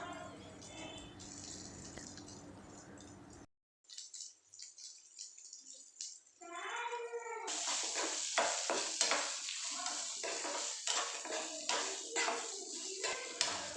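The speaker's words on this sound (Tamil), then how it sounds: "இது கொஞ்ச நேரம் அப்படியே வதங்கட்டும்." Chutney ingredients sizzle and are stirred in a hot pan, with crackling frying and scraping strokes; a brief quiet gap interrupts before the sizzling resumes, louder.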